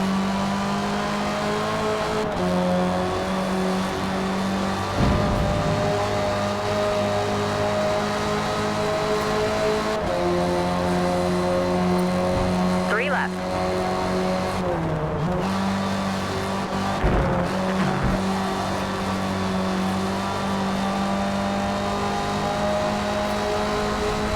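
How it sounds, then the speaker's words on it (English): A Ford Escort RS1600 races in Forza Motorsport, its engine droning steadily at high revs with gear changes, brief tire squeals and the sound of other cars passing, loud and continuous throughout. "We're racing in a Ford Escort RS1600."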